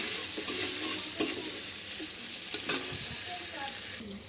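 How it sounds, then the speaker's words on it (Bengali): Steady sizzling of onions frying in hot oil, with a few soft clicks of stirring scattered throughout, close up. "তো পেঁয়াজটা এখন ভাজা হচ্ছে।"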